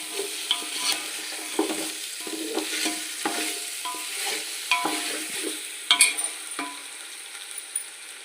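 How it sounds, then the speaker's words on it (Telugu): Chicken pieces tossed with fried ginger in a hot pan for restaurant-style chicken biryani, a crackling sizzle broken by repeated scraping and clinking stirs of a spoon against the pan, close and without talk. "అల్లం వేగిపోయింది ఇప్పుడు చికెన్ వేసేసుకుందాము బాగా కలుపుకోండి"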